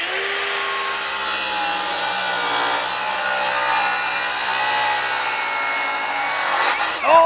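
A power saw rips a quarter inch off the edge of a deck board, a steady continuous cutting whine for several seconds that ends abruptly with a brief clatter.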